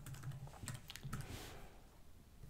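Keystrokes on a computer keyboard while entering a text label in Keynote, a quick irregular patter of close, clear clicks in short bursts with a brief pause before a final few taps.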